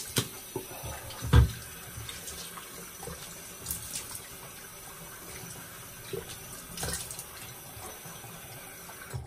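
A bathroom tap runs steadily while a shaving brush is rinsed under it, a soft continuous flow broken by a few splashes and knocks, fairly close and alone without talk.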